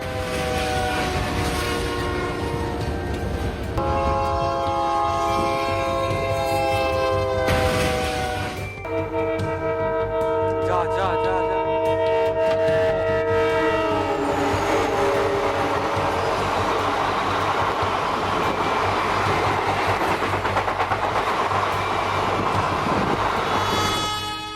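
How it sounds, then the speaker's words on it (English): A loud train horn blares in long sustained blasts as a train thunders past close by, its rumbling and rattling wheels continuing after the horn fades. "An incredible moment when a train accident in Texas was caught on camera."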